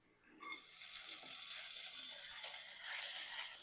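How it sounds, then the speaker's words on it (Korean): Onion and bacon frying in hot cooking oil, a steady broadband sizzle that starts up within the first half second and stays loud and continuous throughout, with faint stirring underneath and no talk. "양파하고 베이컨을 볶습니다."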